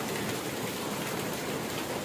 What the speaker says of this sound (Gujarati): અત્યારે ફૂલ વરસાદ પડી રહ્યો છે